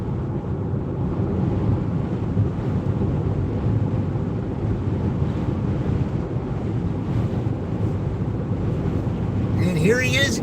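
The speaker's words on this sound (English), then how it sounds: "listen to that wind. Blowing everything around." Strong outdoor wind blowing things around, a loud continuous gusting roar with buffeting on the microphone that runs through the whole stretch, ending with a brief higher sound.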